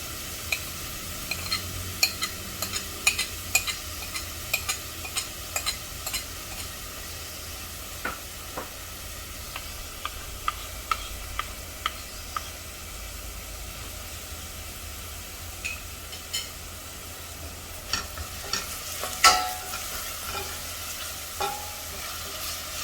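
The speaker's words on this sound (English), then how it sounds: "Also going to add in the ginger garlic paste." Ginger garlic paste frying in ghee for a vegetable dalcha, giving a steady low sizzle with scattered crackles and pops and occasional stirring scrapes, close by and fairly quiet, no voices.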